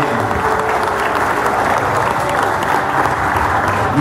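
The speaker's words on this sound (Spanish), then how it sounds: "Un aplauso para la gente del Casino Club en este ciclo 2017" A crowd at the Casino Club applauds during its 2017 season with loud, continuous clapping from many people and a faint murmur underneath.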